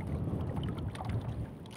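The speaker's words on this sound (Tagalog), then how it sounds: "Lumalakas na ang hangin mga idol," Strong wind at sea buffets a small handline fishing boat off the Philippines, a loud continuous roar with low gusty rumble and no talk.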